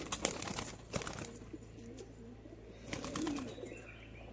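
Small pigeons in a loft give soft, low coos and a few faint chirps, with brief wing flutters near the start; the sounds are close but quiet over a steady low hum, and no one speaks.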